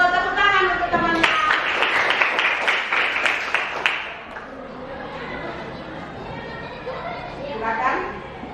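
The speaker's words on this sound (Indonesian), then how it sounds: "Tepuk tangan untuk teman-teman." A classroom of students bursts into applause, a dense patter of clapping lasting about three seconds, followed by a teacher speaking over the fading room noise.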